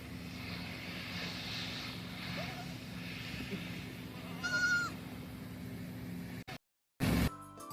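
Young goat kids give a short bleat or two over a steady low hum, and the sound cuts off abruptly near the end.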